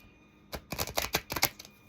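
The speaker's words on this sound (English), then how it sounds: "That was a better shuffle." A deck of tarot cards is riffled close by, a rapid string of crisp papery flicks and taps over roughly a second, smoother and more even, set against a quiet room.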